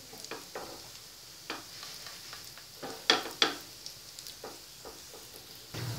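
Dahi kebabs frying in a pan, a soft steady sizzle with occasional light clinks and stirring taps, close and fairly quiet.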